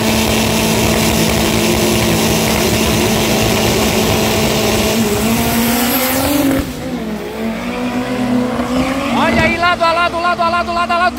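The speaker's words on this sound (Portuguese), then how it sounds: "vamos ver quem será que passa na frente, Chevette ou Marajó?" A Chevette and a Marajó drag racing side by side on a strip, their loud engines roaring and revving at close range under an excited announcer's commentary, with pitch shifts as they change gears.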